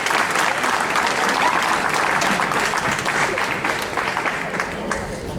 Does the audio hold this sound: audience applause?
yes